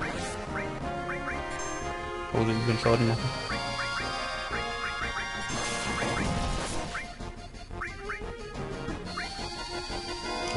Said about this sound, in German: riesiger Vogel